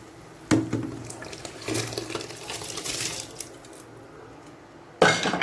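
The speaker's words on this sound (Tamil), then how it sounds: "இப்போ தண்ணி கொதிச்சிருச்சு பரி நான் அரிசியும் பருப்பும் போட போகிறேன்" Rice and lentils tipped into a pot of boiling water, giving a near, wet rushing pour that rises sharply and runs for several seconds, then drops off, with a fresh splash at the end.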